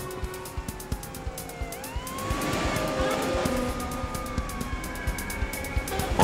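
A police siren wails with rising and falling tones as it approaches, growing louder over steady rhythmic ticking and background traffic noise, with no voices.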